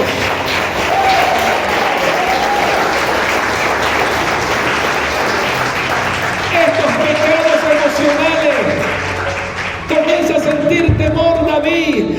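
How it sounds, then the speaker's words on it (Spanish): A church congregation applauds during a Spanish-language sermon, a steady wash of many hands clapping throughout while a voice rises over it, speaking and calling out. "Aplauda la gloria de Dios."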